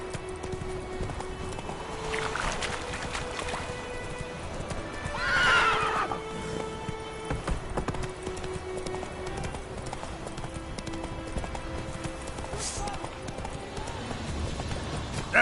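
Horse in The Witcher 3 video game: galloping hooves clip-clop steadily throughout, with a loud whinny near the middle and outdoor game ambience.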